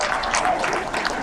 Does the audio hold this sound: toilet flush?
no